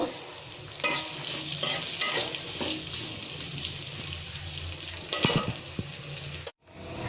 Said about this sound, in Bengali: এখন আমি পেঁয়াজ কুচি, কাঁচামরিচ কুচি, রসুন কুচি কিছুক্ষণ তেলে ভেজে নেব।